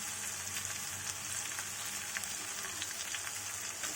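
Sliced onion fries with turmeric and salt in a pan as a base for mutton, giving a steady, even sizzle and hiss throughout with no talking.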